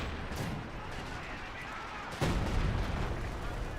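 An artillery barrage in Company of Heroes 2, with a distant rumble building to one loud impact and a sustained roar, under faint background noise.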